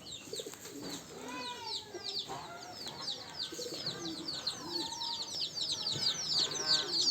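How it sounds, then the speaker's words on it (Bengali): Native village chicken chicks cheep in rapid, high, repeated peeps close by, with occasional lower bird calls and faint voices in a rural yard. "দেশি মুরগির বাচ্চা।"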